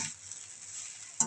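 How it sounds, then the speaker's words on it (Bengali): Rice and lentils being dry-fried with salt and turmeric, giving a steady, close hiss of sizzling that runs throughout, with a brief louder scrape of stirring near the end and no voices. "নুন আর হলুদ দিয়ে চাল ডালটা একটু ভাজা ভাজা করছি।"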